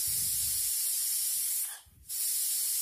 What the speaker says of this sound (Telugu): చూడండి, 2వ విజిల్ వచ్చింది